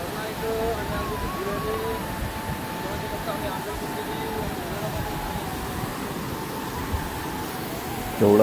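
Steady rushing roar of a waterfall up ahead, continuous and fairly loud, with a faint tonal whine above it and a brief knock near the end.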